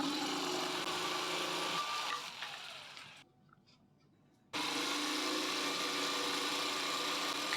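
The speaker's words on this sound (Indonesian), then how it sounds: "potong terlebih dahulu untuk papan multiplex ini menggunakan mesin jigsaw ya" A jigsaw cuts a multiplex plywood board with a dense, steady buzzing rasp that drops away to near quiet for about a second, then starts again at full strength.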